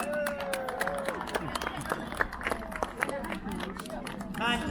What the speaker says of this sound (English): come on, give them a big round of applause. Make some noise here.